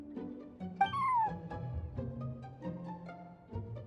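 A cat in the video game Genshin Impact lets out a single clear, rising meow over soft background game music.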